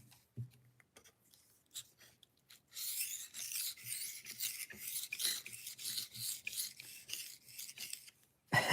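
A knife blade stroked back and forth across a diamond sharpening stone, giving a steady series of close, bright rasping scrapes in a regular rhythm after a few scattered light touches at the start.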